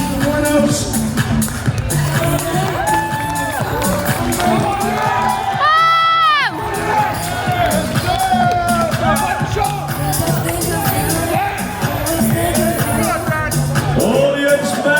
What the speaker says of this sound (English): Audience members, a round of applause for your physique winners.